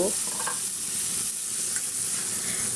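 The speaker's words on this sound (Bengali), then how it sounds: "পেঁপেগুলা দিয়ে দিলাম পেঁপেগুলা দেওয়ার পরে ভালো করে কষিয়ে নেব" Papaya pieces stir-frying with prawn spice masala in a pan, a steady soft sizzle with occasional stirring scrapes, close and continuous with no talk.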